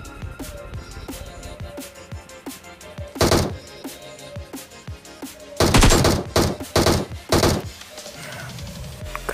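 Bursts of gunfire in the battle-royale shooter PUBG, a dense volley around the three-second mark, then a rapid string of loud shots near six to seven seconds over steady game ambience, with scattered quieter shots between.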